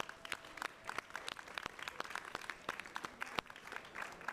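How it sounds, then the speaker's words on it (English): Distant, quiet audience applause follows a poem recital, with sharp individual hand claps scattered through a soft, continuous clapping texture. "Can I please kindly request you give a very loud applause to Beza?"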